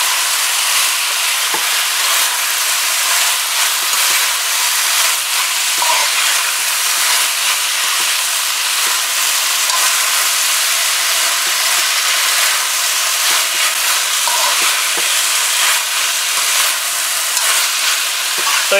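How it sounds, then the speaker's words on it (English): Vegetables in sauce stir-fry over high heat, a loud, steady hiss of sizzling with faint scraping of stirring running throughout without pause. "So you don't need to fry this for very long, as I said, about a minute tops."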